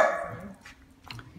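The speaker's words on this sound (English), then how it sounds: "Hear the dogs." Dogs barking at a family home, a few short, fairly faint barks at a distance, set against low background noise with no talk.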